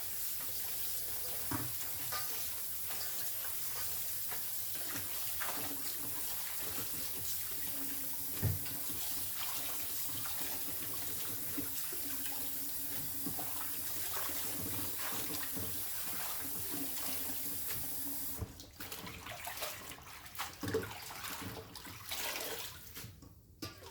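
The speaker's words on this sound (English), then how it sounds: "After cutting the Chinese broccoli, I'm just gonna wash it with room temperature water." Room-temperature tap water runs into a sink while cut Chinese broccoli is washed, giving a steady splashing rush broken by uneven sloshes and handling sounds.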